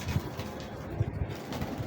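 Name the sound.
golden female pigeon held in hand, cooing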